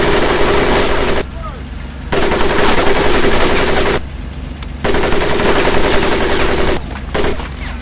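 Sustained machine gun fire rattling over a military training course in Medal of Honor Pacific Assault, loud and continuous bursts broken by a few short pauses, with no talking.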